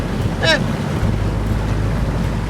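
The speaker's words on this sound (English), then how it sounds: "Still a real blustery day, so we got wind and current both kind of coming the same direction" Blustery wind buffets a sailboat heading out near Charleston, heavy continuous gusting roar against the microphone with a brief high whine near the start and water wash beneath.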